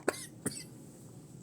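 Two or three short coughs from a woman, a strong burst near the start, another a moment later and a brief one at the end, close and alone with no talk.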